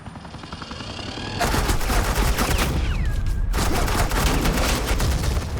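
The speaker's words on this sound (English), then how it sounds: "suppressing fire" Sustained bursts of suppressing gunfire from the video game Batman The Enemy Within, a loud, dense rattle of rapid shots that starts abruptly and continues steadily, with a brief dip in the middle.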